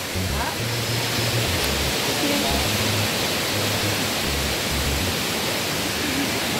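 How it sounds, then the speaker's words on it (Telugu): Heavy rain pours down while water flows along the ground and a nearby waterfall rushes, forming a dense, steady hiss throughout with brief low thumps and no clear speech. "మొత్తం పైనుంచి వర్షం, ఇక్కడ కింద నుంచి ఏమో వాటర్ ఫ్లో, ఇటేమో వాటర్ ఫాల్"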